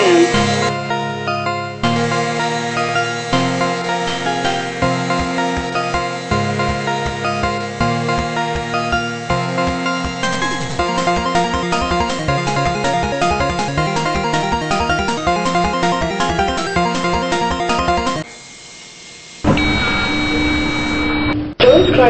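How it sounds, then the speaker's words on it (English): Game-world elevator in a Roblox hotel descending between floors, heard as continuous electronic lift music with looping synth patterns and steady tones, loud and unbroken apart from a brief drop near the end, with recorded floor and door announcements around it. "Lift going down."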